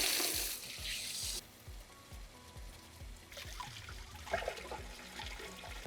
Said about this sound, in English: Next, it's gonna be time to fill the water.